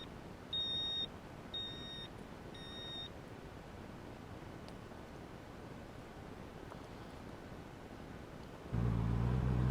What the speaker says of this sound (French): j'ai investi dans un bloc disque avec alarme, sauf que l'alarme se déclenche H24